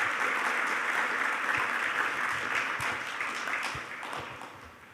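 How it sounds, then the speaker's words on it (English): An audience at an aviation conference session claps for its presenters, a steady, fairly loud round of applause that slowly tapers off. "I would like to request all of you to give a big applause to our three presenters"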